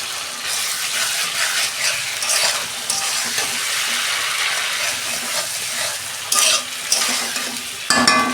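Hilsa fish curry being stirred in a hot pan after chili powder goes in, a steady loud sizzle with scraping and clinking of a spoon, louder stirring bursts near the end.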